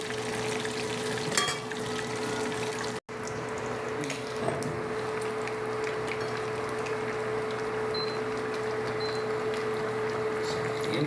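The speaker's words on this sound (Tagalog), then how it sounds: "Low fire lamang po guys para maluto po yung loob ng ating chicken." Chicken fries in oil over low heat with a steady, even sizzle and crackle close by, keeping the same level throughout apart from one brief dropout.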